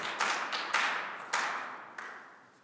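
A few scattered claps ring out in a city council chamber, four sharp separate slaps, each fading into the room's echo, with no voices over them.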